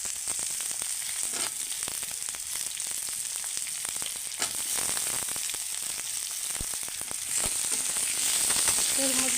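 Potatoes sizzle in hot oil with cumin seeds for a tilapia fish vegetable kaliya, a close, steady frying hiss dotted with sharp crackles and spits that grows slightly louder toward the end.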